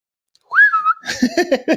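A person whistles once to quiet a barking dog, imitating the sound: a short, loud rising-then-falling whistle heard alone, followed by talking.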